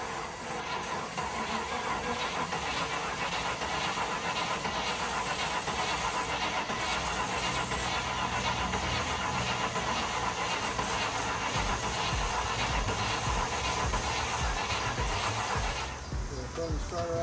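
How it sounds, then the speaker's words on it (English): A Land Rover Discovery 1 with a finicky key and a missing idle air control valve cranks on its starter in a long, rhythmic churning run that stops abruptly near the end, with people talking over it. "You need to like push it in and make it crank."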